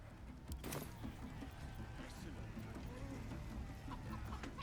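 A chicken clucks and squawks in the chicken-chase minigame of Baldur's Gate 3, repeated short clucks over a busy game soundscape with one sharp burst near the start, speech also present.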